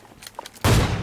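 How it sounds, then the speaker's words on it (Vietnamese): Gunfire in a haunted-castle video game, a sudden loud burst of shots that starts after a few faint clicks and fills the rest of the moment. "Bên kia còn tiếng súng cơ"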